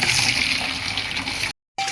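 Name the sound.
water running from a tap fed by a submersible pump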